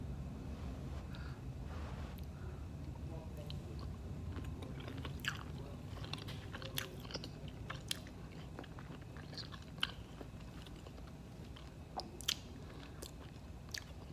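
Close, quiet chewing of shrimp from a fettuccine alfredo with spinach, with soft wet squishes and faint crunchy bites spread over several seconds.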